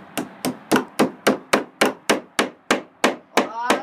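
Hammer blows drive a nail during construction of a closet, about twelve sharp evenly spaced strikes, close and loud, with no talking.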